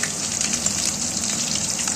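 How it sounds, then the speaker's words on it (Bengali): Snakehead fish fry in hot oil, giving a dense, steady crackle and hiss heard close up with no voices. "মাছগুলো ভেজে নেব।"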